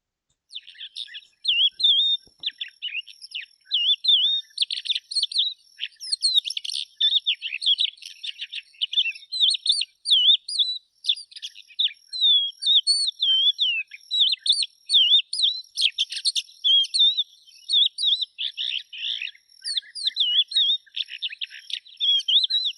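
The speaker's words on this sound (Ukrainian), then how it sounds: "Давайте з вами прослухаємо спів жайворонка." Skylark song in a recording, a rapid, continuous stream of high warbling chirps and trills, clear and bright with short pauses between phrases.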